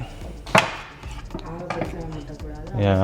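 Knife cutting fried sweet dough pieces on a board in a home kitchen, with a couple of distinct close chops among softer cutting sounds.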